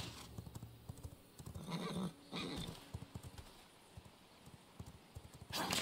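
Horse hooves clip-clop in quick uneven steps in the video game V Rising, joined by short whinnies and bursts of noise, with no talking.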